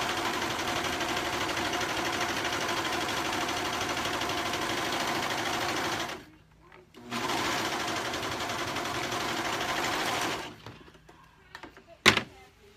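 A sewing machine stitches the main fabric and lining together across the top, humming steadily and loudly in two long runs with a short pause between, followed by quiet handling and a sharp knock.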